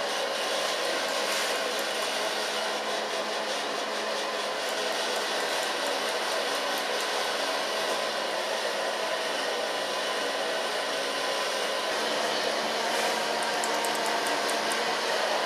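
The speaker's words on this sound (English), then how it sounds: "I'm going to blow dry it with the use of my fingers" A hair dryer blows steadily at close range as short bleached pixie-cut hair is finger-dried, a continuous loud whoosh lasting the whole time with no talking.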